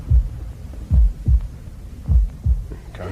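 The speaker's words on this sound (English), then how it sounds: "your heartbeats are vibrating against the casing" Heartbeat heard through a stethoscope in a Dad's Army radio drama, deep muffled double thumps repeating in a steady rhythm, close and loud under a low hum, no voices.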